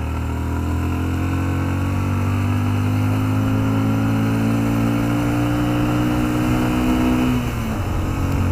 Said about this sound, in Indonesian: baru di RPM 7000 ke atas ini baru kedengeran ya suara knalpotnya